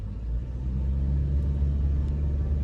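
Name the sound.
Mitsubishi Lancer 1.6 automatic accelerating in drive mode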